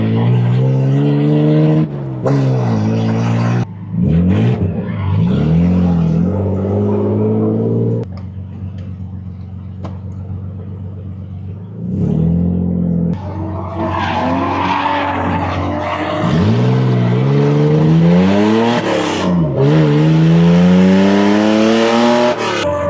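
BMW E30 with an M50 engine swap drifting, its engine revving hard and rising and falling in pitch over continuous loud tire squeal, with brief pauses between runs.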